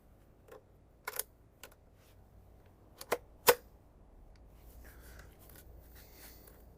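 An AR-7 survival rifle being reloaded: a series of sharp metallic clicks and clacks, several close together and a louder snap, followed by faint handling rustle, with no talk.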